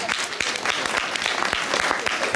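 An audience at a patriotic song festival gives a loud, dense burst of warm applause as a prize winner is called up, brief and steady with no speech over it.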